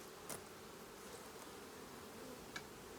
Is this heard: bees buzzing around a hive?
yes